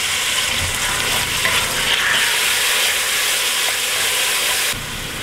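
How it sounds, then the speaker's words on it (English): Beef browning in a pan for stew gives a loud, continuous sizzling hiss close up, steady throughout before dropping slightly in level near the end, with no talking. "My goal right now is to brown this beef as much as I can without overcooking it"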